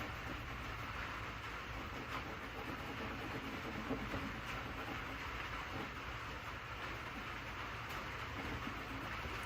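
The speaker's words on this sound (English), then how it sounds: "You guys can hear the rain tap, tap, tapping on the roof." Steady, dense patter of rain on a workshop roof, continuous and even throughout with no pauses, moderately loud and close.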